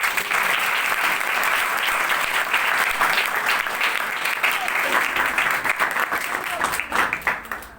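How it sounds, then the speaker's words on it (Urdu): A church congregation breaks into loud, dense applause that holds steady for several seconds before thinning into scattered claps at the end. "خداوند یسوع مسیح کے جلال کے لیے اس سے بھی زیادہ زوردار تالیاں ملیں"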